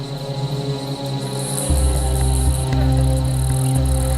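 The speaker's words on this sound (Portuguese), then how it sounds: "Ela responde ao chamado de acasalamento da cigarra macho." A male cicada's mating call in the Australian wild, a steady, loud insect drone with a high buzzing whine sustained throughout, shifting slightly in intensity near the midpoint.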